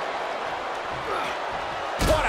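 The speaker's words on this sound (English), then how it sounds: "Move made synonymous with Hulk Hogan. Leg drop" Hulk Hogan's leg drop slam in the WWE 2K24 wrestling video game, a single heavy thud at the very end, cutting through a constant arena crowd noise.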